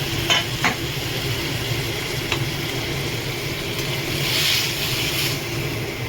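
Fried fish pieces are added to a simmering Bengali fish curry and stirred with a utensil, producing a soft bubbling sizzle and a few scraping stirs over steady background hum.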